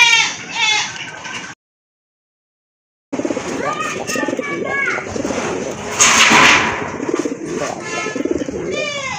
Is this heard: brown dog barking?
no